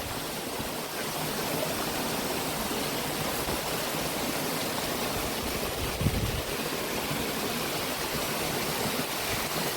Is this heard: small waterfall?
yes